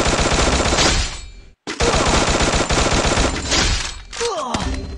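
Rapid automatic gunfire bursts from a video game shooter, loud and dense, in several long volleys broken by a brief silence, with a short trailing burst near the end.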